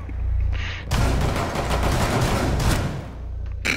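Gunfire crackles in a Rainbow Six Siege match on the Chalet map, a dense loud burst of shots that runs for a few seconds over a low game rumble.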